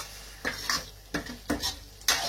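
Curry leaves sizzle in hot oil for a prawn gravy while a spoon stirs the pan, with rhythmic scraping strokes about every half second over a soft continuous fizz.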